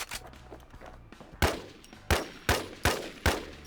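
IMI TAR-21 rifle fired in the video game Infestation, a handful of sharp separate shots with short gaps, the last four in quick succession, loud and close.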